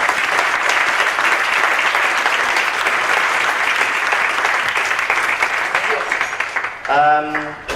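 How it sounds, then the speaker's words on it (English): Applause from an audience after a talk, dense sustained clapping from a large crowd that holds steady and then fades near the end as a voice starts speaking. "A big hand, round of applause for Klaus Meyer."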